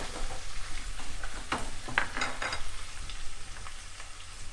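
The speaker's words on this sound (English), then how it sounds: "after adding the garlic and ginger paste, you have to keep on stirring" Garlic and ginger paste fries in a pan over a low to medium flame for a North Indian chicken curry, giving a steady close sizzle with brief bursts of spoon scraping and stirring in the middle.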